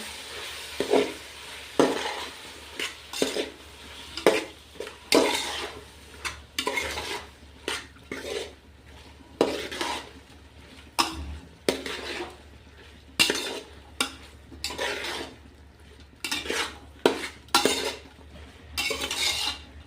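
Vegetables with curd and coriander being stirred in a pan for veg pulao, with repeated rhythmic scraping and clanking of a spoon against the metal pan over a faint sizzle, close and fairly loud, with no talking.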